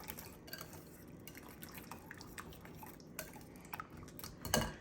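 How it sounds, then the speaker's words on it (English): Chicken seasoning with Worcestershire sauce and red wine vinegar mixed in a small dish, soft wet clicks and scrapes of a utensil in quick irregular strokes, faint and close, no voices. "Give that a little bit of a mix."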